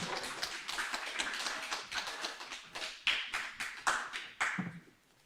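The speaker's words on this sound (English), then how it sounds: "Let's give her another round of applause" Applause from a seated audience at a character education program certification event, a steady patter of many hands clapping that swells and ebbs in uneven bursts, fairly close and with no voices over it.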